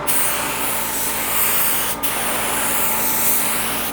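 An LVLP paint gun driven by a small compressor at 22 psi sprays a first coat as a loud, steady close hiss, with one brief break in the middle before spraying resumes.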